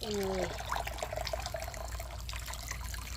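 Warm water poured from a container over wild mushrooms to wash them, a brief splash followed by soft continuous trickling and bubbling, fairly faint, with a voice briefly heard at the start.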